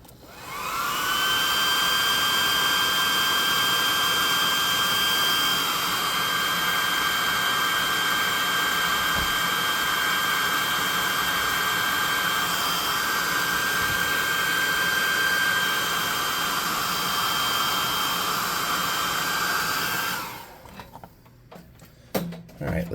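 Loud, steady whine of a hair dryer blowing on a freshly painted salamander miniature, running continuously for about twenty seconds with a constant high tone before switching off, followed by faint handling noises.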